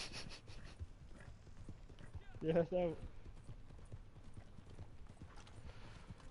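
Horse hooves clopping at a riding pace in the video game Red Dead Online, soft and steady under a speaking voice, with a brief louder snort or whinny partway through.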